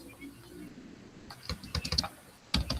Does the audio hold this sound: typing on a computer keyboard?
yes